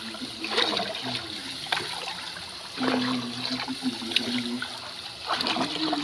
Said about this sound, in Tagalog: O dadako naman tayo sa pagdidilig ng mga halaman.